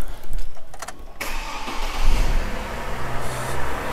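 A car engine cranks briefly with a rapid whirring starter, then catches and settles into a steady idle; no voices are heard.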